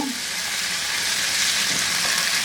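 Drained noodles tumbling into a pan of frying onion and garlic for vegetable chow mein, a loud, steady sizzle with broad hiss running unbroken throughout.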